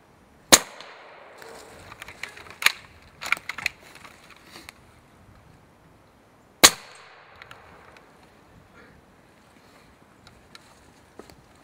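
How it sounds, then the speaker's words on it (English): Benjamin Rogue .357 air gun shots at a hog outdoors, two sharp loud cracks several seconds apart with a cluster of smaller clicks and knocks between, against a quiet background without talk. "With an air gun."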